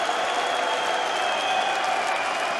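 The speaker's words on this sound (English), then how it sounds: "it's given the home fans finally something to cheer about" A home crowd at a PDC European Tour darts match in Riesa cheers and applauds steadily after their player wins a leg, a dense, even roar that holds at one level with no pauses.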